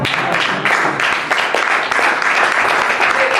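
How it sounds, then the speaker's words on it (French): Church congregation applauding and acclaiming during a sermon, dense sustained clapping from many hands that fills the space loudly from start to finish. "acclame le Seigneur"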